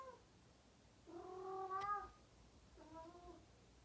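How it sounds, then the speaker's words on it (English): A cat meows softly twice, the first call longer and rising, the second shorter, heard faint and close in a quiet bedtime room with no talking. "He keeps meowing."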